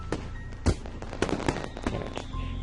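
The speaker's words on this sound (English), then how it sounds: "with only the blast of the fireworks to be heard" Fireworks in the Katawa Shoujo visual novel, a handful of separate booming blasts and crackles spaced irregularly over a quiet background, moderately loud and fairly close.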